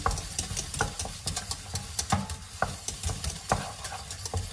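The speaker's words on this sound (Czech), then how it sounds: "Syrově bešamelu přidám sůl, nějaký ten perč, zamiešám." A spoon stirs béchamel sauce for lasagne after salt and pepper go in, giving a steady scraping and swishing against the pot with a faint sizzle underneath, close and fairly loud, with no talking.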